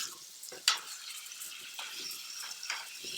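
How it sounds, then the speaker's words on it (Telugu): Onion and green chili paste sizzles in a hot pan, a steady soft frying hiss broken by a few scraping stirs of a spoon. "ఇది కూడా వేపుకుందాం బాగా"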